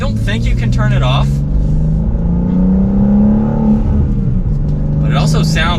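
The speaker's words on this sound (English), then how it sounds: "on my downshifts there, this does have built-in rev matching" A 2025 BMW M2 with a manual gearbox downshifts with automatic rev matching, its engine rumbling low and revving up and down through the sport exhaust from inside the cabin, with a person talking at the start and end.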